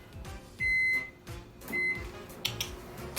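A microwave oven heating a dessert mixture, with a low hum, a few short electronic beeps and door clunks, heard close and fairly quiet, no talking.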